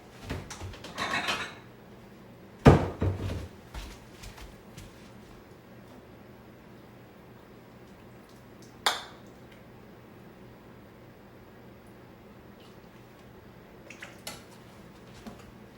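Bowls and dishes clink while Portuguese Alcatra is being served: a few sharp ceramic knocks and brief clatters come close by, separated by long quiet stretches.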